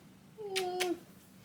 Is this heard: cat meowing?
yes